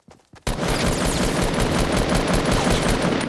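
Sustained automatic rifle fire from Fortnite, a thermal-scoped assault rifle, starting after a brief quiet moment and then roaring continuously and loudly to the end, dense rapid shots with no talking.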